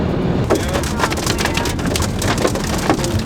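Hail pelting down outdoors before an approaching storm, a dense, continuous patter of hard ice hitting surfaces with scattered sharper cracks, steady and fairly loud with no voices.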